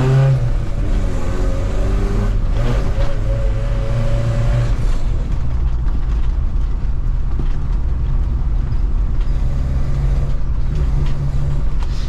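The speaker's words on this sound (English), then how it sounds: "The exhaust is really loud." A Toyota 4x4 camper truck's loud exhaust rumbles nearby, a low, rough drone that swells as it revs, then settles into a steadier roar, with no voices.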